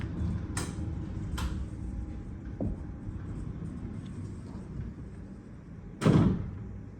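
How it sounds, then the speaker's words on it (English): A sliding door between the bedroom and bathroom of a King Deluxe Lake View hotel room at the Hilton Kuala Lumpur: a few light clicks and rattles, then a louder rolling thud as the door slides, heard close against quiet room tone. "Can also slide this door."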